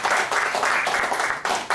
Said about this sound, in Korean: 이 시간 다 같이 감사의 박수를